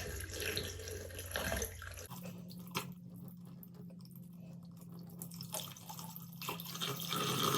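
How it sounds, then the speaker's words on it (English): Hot water from a pitcher pours into a drain during a DIY drain cleaning, a steady close splashing flow that runs for several seconds after a brief louder start, with no talk. "Got a hot pitcher of water. Just going to pour that in there."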